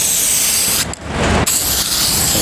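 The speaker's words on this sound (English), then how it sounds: "Don't forget to spray around the edge." Spray can hissing steadily as silver gal paint goes onto a restored ute wheel over etch primer, a continuous close spray with one brief pause partway through.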